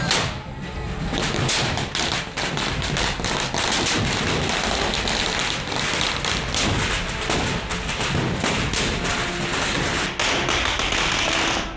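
Gunpowder firecrackers burst at a village festival in a dense, continuous crackle of sharp pops and thuds, loud and close, going on without pause.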